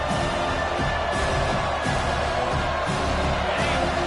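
A home crowd at a TCU vs Penn State college football game roars on third down, a dense, sustained wall of cheering that swells and ebbs throughout.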